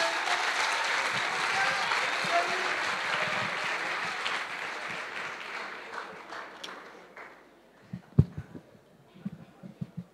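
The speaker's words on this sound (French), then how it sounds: "je voudrais que vous applaudissiez haut et fort la personne qui a eu l'idée unique et originale de proposer le sujet" Audience applause at a debate final, loud and sustained for about six seconds, then thinning out to scattered claps and a few sharp thumps near the end.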